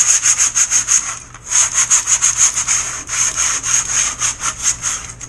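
Sandpaper scuffs a sealed panel on an RBC Kits Jersey Skiff boat kit build in steady, rhythmic back-and-forth strokes, close and fairly loud, with one short pause near the start.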